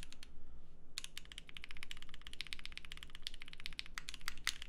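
Continuous fast typing on a Vertex Angle prototype mechanical keyboard, a dense run of crisp key clicks and clacks with a steady rhythm, close and clear, with no talk over it.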